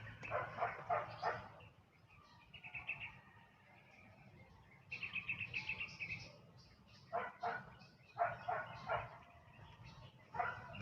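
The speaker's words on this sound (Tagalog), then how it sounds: "Parang may aso." A dog barks in short bursts at an abandoned factory's barracks in the Philippines, a few clustered yelps then a pause and another cluster, fairly distant against a low background hum.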